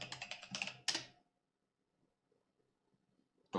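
Rapid clattering keystrokes on a computer keyboard while entering a command during a Deepin Linux install, a dense close-up burst that stops into near silence, then a final loud key press.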